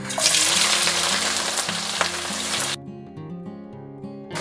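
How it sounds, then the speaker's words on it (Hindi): Three large sliced onions frying in half a cup of hot oil for mutton korma, a dense steady sizzle up close that cuts out abruptly near the end, leaving a quiet tonal background. "हमारा ऑयल अब अच्छे से गर्म हो गया है। अब हम इसमें ऐड करेंगे 3 बड़े प्याज स्लाइस कटे हुए।"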